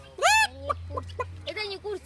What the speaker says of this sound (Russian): Это не курица, это эмо.